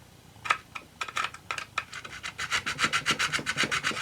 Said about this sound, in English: So I'm going to use my file.